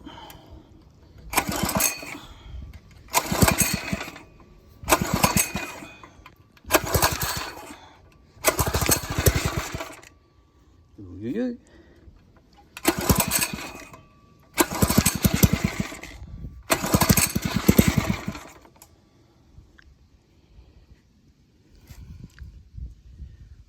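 A Phatmoto gas bike engine revving in a series of repeated throttle bursts, each a loud buzzing roar of a second or two separated by short idle gaps, close to the listener.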